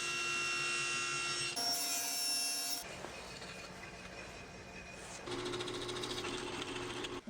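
A saw blade cuts a clamped wooden block held on a wedge, shaping a part for a tripod lamp; a steady, continuous buzzing rasp of machine and blade runs throughout, close and even, shifting in tone partway through.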